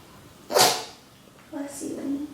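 One sharp sneeze bursts out close by during a quiet home yoga session, followed a moment later by a short soft voiced sound.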